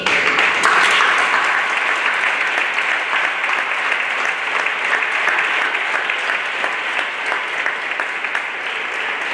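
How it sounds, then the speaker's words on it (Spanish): A crowd at a school arts event in Spain gives sustained applause, a dense, steady patter of many hands clapping for several seconds with no speech over it. "Quiero darles a ustedes mi aplauso."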